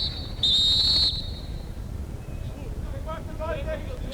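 A single sharp, shrill umpire's whistle blast at a 1999 men's field hockey Champions Trophy match, Netherlands vs Spain, cuts through distant crowd noise, lasting under a second, while a voice talks faintly afterward.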